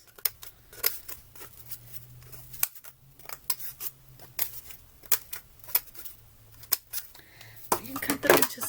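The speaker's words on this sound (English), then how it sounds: "We can cut them really, really tiny. You can cut them into smaller pieces." Scissors snipping paper flowers into tiny pieces, a run of sharp close crisp cuts in an irregular rhythm, some quick and clustered near the end.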